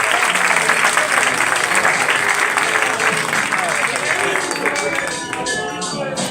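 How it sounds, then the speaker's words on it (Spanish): Sustained applause from a crowd at an awards gala, dense and steady clapping that fills the space and tapers slightly toward the end. "Un fuerte aplauso para ellos."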